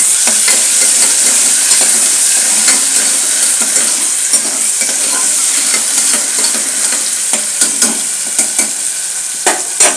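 Onions and a spoon of ginger garlic paste fry in a hot pan for masala macaroni, giving a steady loud sizzle with scattered stirring scrapes and clicks throughout.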